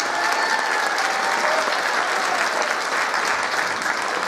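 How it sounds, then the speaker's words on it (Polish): An audience at a Christmas choir concert in Tczew claps loudly and continuously, a close, dense wash of many hands with no pauses for the whole stretch. "Jeszcze raz wielkie brawa dla nich"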